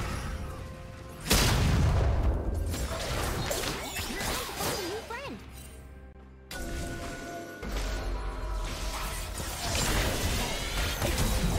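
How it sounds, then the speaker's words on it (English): A turret collapses in League of Legends with a heavy boom and crashing impact, followed by whooshing ability effects and sustained game clatter, with a sudden drop and return of the sound midway. "Blue team's turret has been destroyed."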